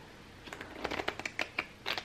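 A deck of playing cards is riffle-shuffled up close, a quick burst of crisp flutters and snaps, then a few settling clicks.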